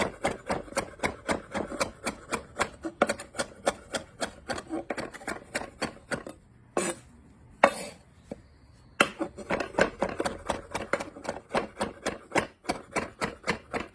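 Kofta meat being chopped on a chopping board with a knife: a long run of quick, sharp, evenly spaced knocks close by, briefly pausing in the middle before the rapid rhythm resumes.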